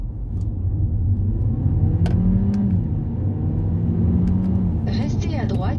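An Audi A3 Sportback pulls away and accelerates in Tokyo traffic, its engine hum rising steadily beneath the cabin rumble, while people talk inside the car throughout and a navigation voice speaks near the end.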